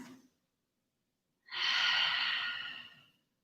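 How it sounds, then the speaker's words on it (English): A single long, deep exhale during a lying-down yoga cool-down, close and clear against near silence, after a brief breath at the start. "take 3 deep cleansing breaths"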